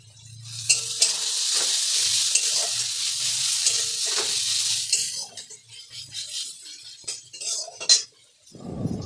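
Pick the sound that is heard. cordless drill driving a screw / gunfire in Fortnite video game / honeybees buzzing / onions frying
onions frying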